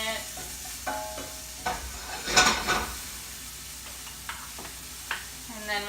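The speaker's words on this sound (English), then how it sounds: "we're going to toss these around a little bit, cook them for a couple more minutes" Kale tossed in a hot pan with salt and pepper, soft sizzling under scattered stirring scrapes and clinks, with one louder rustling toss in the middle.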